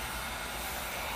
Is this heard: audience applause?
no